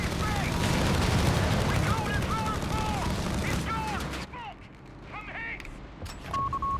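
Gunfire rattles through a Company of Heroes 3 battle, with dense bursts of shots and booms under overlapping voice lines, easing off partway through before a lighter exchange resumes.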